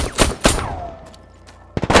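A shootout in the film The Contractor: several loud gunshot bursts with reverberant tails and a quieter stretch between them, with no speech.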